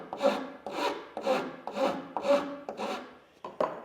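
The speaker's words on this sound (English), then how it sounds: "we simply take a rasp, and this one's slightly rounded, and we start trimming some off of here" A slightly rounded rasp trims a rolling bevel on a wooden carvel hull plank, giving about seven steady, rhythmic rasping strokes, close and even, with no talk.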